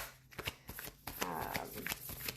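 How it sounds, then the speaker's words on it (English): Tarot and oracle card decks, including the Spirit Animal Oracle and a tarot deck, are shuffled by hand, giving soft riffling flutters and light papery slaps close up and fairly quiet, with no voices. "as I shuffle the cards here"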